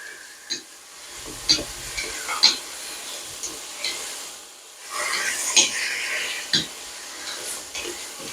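Marinated pork ribs tossed into a pan with garlic and Ly Son shallots, stirred with scraping strokes over a soft sizzle, a voice talking intermittently alongside.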